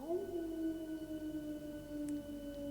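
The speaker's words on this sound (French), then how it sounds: "Il fait le bruit du loup." A single long, sustained wolf howl from a Naruto animation, steady in pitch and moderately loud, with a faint high tap near the end.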